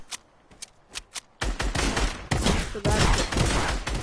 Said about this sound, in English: You're using a spam gun! A spam shotgun.